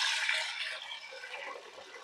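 Water is poured off washed mung and chickpea lentils for a traditional Punjabi dal, a close gushing pour that fades slightly over two seconds, with no voices.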